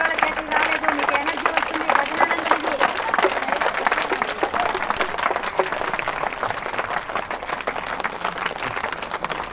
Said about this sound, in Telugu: ఇంకొక 2 నిమిషాలు క్లాప్ కొట్టాలి